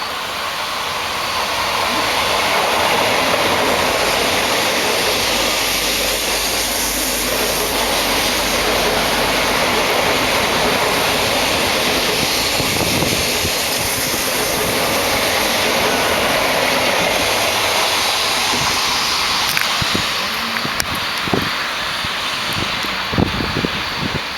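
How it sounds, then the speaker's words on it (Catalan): A train runs straight through Mollet Sant Fost station on track 1 without stopping, producing a loud, continuous rushing roar that holds steady for about twenty seconds before breaking into rattling clatter near the end. "Tren sin parada por vía 1."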